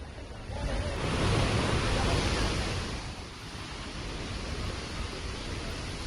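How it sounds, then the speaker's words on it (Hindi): Waterfall at Kunda in Bayana running hard after monsoon rain, a broad, loud, steady rushing roar heard close up with no talk over it. "तो आप देख सकते हैं तेज बहाव के साथ झरने बहने लगे।"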